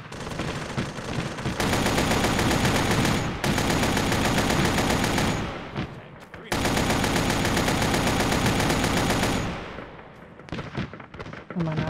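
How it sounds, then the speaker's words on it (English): Sustained enemy gunfire in ARMA 3 roars as long, loud, continuous volleys of automatic fire, broken by two brief gaps before a quieter stretch of scattered shots at the end. "Enemy fire!"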